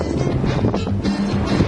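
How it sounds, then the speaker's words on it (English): Outdoor wind blows steadily across the microphone in a continuous broadband rush, moderately loud and unbroken, with no talking. "it's windy out here"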